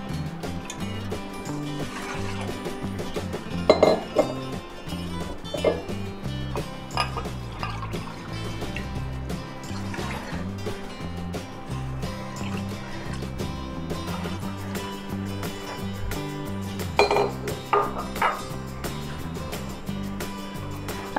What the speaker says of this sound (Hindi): अब इसमें 3 कटोरी हम पानी डालेंगे